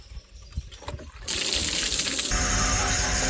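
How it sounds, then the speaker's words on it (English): Engine coolant gushing from a Gen 3 Hemi block as a cylinder head is lifted off, a sudden loud steady rush of liquid that starts after a second of quieter clinks and continues strongly to the end. "Rick, you got a coolant leak!"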